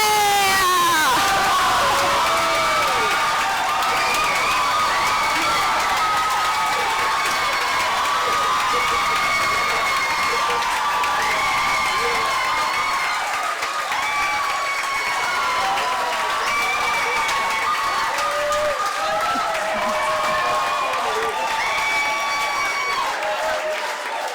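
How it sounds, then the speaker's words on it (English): At an Entente Florale Europe prize-giving ceremony, a large crowd applauds and cheers for the gold medal winner Festsaal, with loud shouts and whoops riding over sustained clapping for a long stretch. "Big applause to Festsaal with the gold medal."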